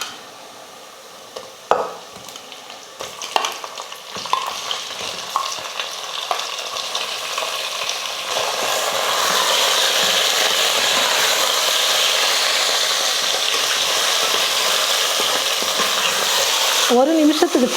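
Chicken sautéing in oil for Donne biryani, starting with a few scattered stirring clatters before settling into a steady, loud sizzle that holds to the end.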